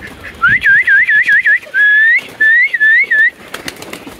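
A loud, close whistle calling pigeons repeats a quick rising-falling warble in several bursts, then a few longer swooping notes, with no talking.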